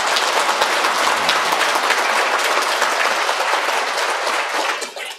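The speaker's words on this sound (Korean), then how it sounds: "특별히 큰 박수를 부탁드립니다." A large crowd applauding steadily for several seconds, dense and loud, then tapering off at the end, at a Catholic Mass in a church.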